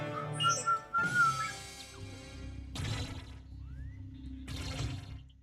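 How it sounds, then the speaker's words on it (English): A person whistles short, bright bursts in a quiet room near a Star Wars pinball machine, three separate phrases with pauses between them and a faint electrical hum underneath. "Don't whistle"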